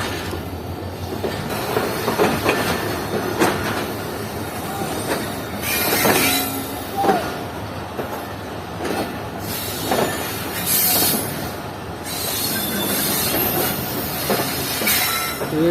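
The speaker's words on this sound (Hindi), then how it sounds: "तो हमारी ट्रेन इस वक्त प्लेटफॉर्म नंबर 3 से निकल रही है हैदराबाद जंक्शन के" A train pulls out of platform 3 at Hyderabad Junction, its wagons rumbling and clacking over the rails with bursts of wheel squeal and hiss, loud and continuous throughout.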